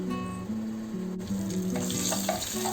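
Urad dal, cumin and two or three dry red chillies frying in hot oil, a close steady crackling sizzle with a few stirring scrapes, continuous and fairly loud, no voices.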